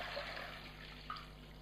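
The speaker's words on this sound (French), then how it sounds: "Vous mettez de l'eau" Water poured into a cooking pot while making a morel mushroom risotto, a faint continuous trickle and splash over a low steady kitchen hum, no talk.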